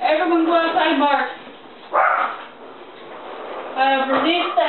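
Dogs bark in two bursts of several quick, tonal barks, near and loud, with a quieter stretch and a single sharp noise between them.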